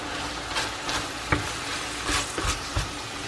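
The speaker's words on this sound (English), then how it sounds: "And then mix it all up." Ingredients with a dash of rice vinegar are stirred together in a bowl, giving a soft, wet, continuous mixing sound with a few light taps of the utensil against the bowl, close up and fairly quiet.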